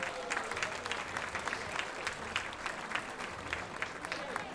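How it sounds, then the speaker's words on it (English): Audience at a banquet hall event breaking into a sustained round of applause, dense and even clapping from many people, loud and steady from start to finish. "Can we give Aliana a round of applause?"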